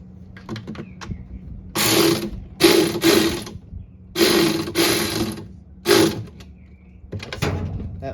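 A ratchet tightening screws on the shift actuator of a Maytag/Whirlpool top-load washer, heard as bursts of rapid clicking, about six close, loud runs separated by short pauses and quieter handling noises.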